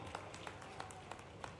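Faint, scattered clapping from a rally crowd at Chief Minister Mohan's Ladli Behna Yojana installment event, heard as a few sharp claps at a steady rhythm over a soft background murmur. No clear speech is heard.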